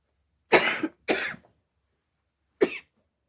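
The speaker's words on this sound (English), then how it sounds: "I just cough and cough and cough" Three dry coughs close by from a person with allergies and asthma, two in quick succession and then a third after a short pause, with silence between them.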